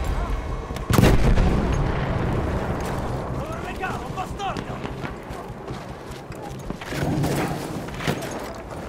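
Artillery fire in the video game Battlefield V, a heavy booming blast early on followed by rumbling battlefield noise and further distant thuds, with voices talking over the din.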